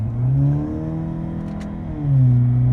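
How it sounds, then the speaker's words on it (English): A German car's exhaust revs up twice, a loud, close engine note that rises, holds briefly, dips and climbs again, with a faint click midway. "Push this thing a bit. Let me hear the exhaust."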